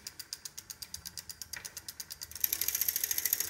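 A Gates carbon belt drive e-bike shifting into third gear gives a steady run of close, sharp mechanical clicks that speed up and grow louder and denser toward the end.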